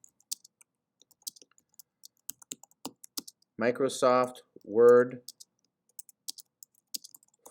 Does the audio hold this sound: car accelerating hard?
no